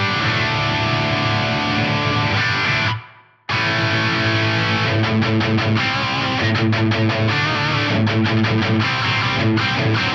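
A distorted, sustained instrument with a short gap, then rhythmic chopped chords run through a reverb with roughly 1.5-second decay and low mix, loud and dense with no voices.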